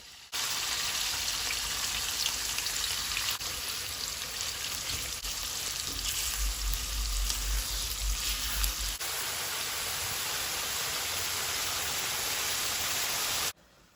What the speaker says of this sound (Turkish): Kızan yağa ciğerlerimi döküyorum